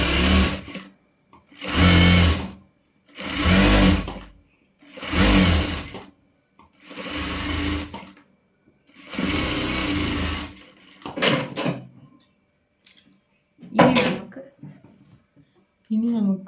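A sewing machine stitches a cross piece for an umbrella frock in repeated bursts of loud, rapid whirring, each a second or two long with pauses between, then shorter stop-start runs.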